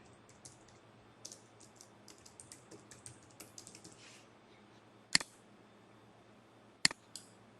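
Keys on a computer keyboard tap out a password to log in, quiet scattered clicks in short bursts followed by two sharper, louder key strikes near the end, with no talking.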